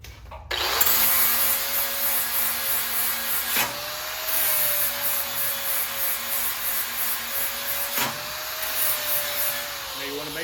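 An angle grinder bevels the edge of a metal railing before welding, a steady loud abrasive whine with a sustained tone that dips briefly twice, close up and continuous.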